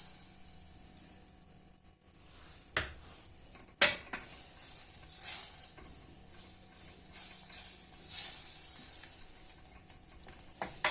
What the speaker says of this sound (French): Dès que le beurre est fondu, je rajoute notre farine